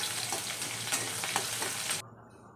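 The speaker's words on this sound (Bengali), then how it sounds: "কড়াইতে তেল দিয়ে জিরা ফোড়ন দিয়ে দিলাম, আর এদিকে দিয়ে দিয়েছি পেঁয়াজ কুচি" Cumin seeds and chopped onion fry in oil in a kadai, making a dense, steady, close sizzle that carries on evenly and then cuts off abruptly near the end.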